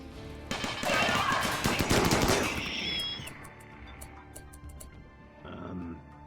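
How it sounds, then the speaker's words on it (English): Automated turrets in the RimWorld colony sim unleash a loud, dense burst of rapid gunfire against raiders, then thin out into scattered sharp shots and faint clicks as the volley tapers off. "Let's turn on all the turrets."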